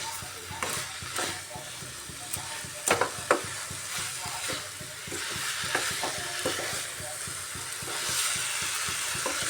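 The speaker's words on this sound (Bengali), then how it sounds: "এভাবে বাঁধাকপি আলু সুন্দরভাবে কষিয়ে নিতে হবে সব মশলার সাথে মিশে যাবে" Cabbage and potatoes frying with spices in a pan, a continuous close sizzle broken by repeated spatula scrapes and clatters against the pan as the mixture is stirred.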